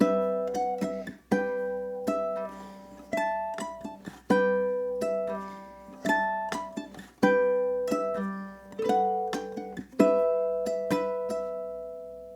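Bright plucked strummed ukulele chords played high on the neck ring out in a bouncy rhythm, with clear high-pitched notes and short pauses between phrases, no voices.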